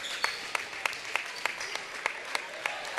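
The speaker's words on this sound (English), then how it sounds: "standing O's from the crowd here at R.A. Faginal Hall" A crowd at a men's college basketball game between Elmhurst and Carthage at R.A. Faginal Hall applauds in a standing ovation; sharp claps recur at a steady rhythm above a continuous wash of applause.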